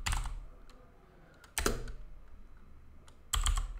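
Close keyboard typing while PHP code is written for a MySQL login page, arriving in three quick clattering bursts of keystrokes separated by quiet pauses.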